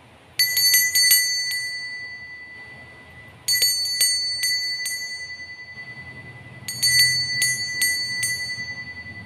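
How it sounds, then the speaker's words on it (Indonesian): A small bright bell rings in three separate bursts of rapid metallic dings, each burst fading slowly, over a faint background hum. "kita akan mulai dengan ditandai lonceng berbunyi"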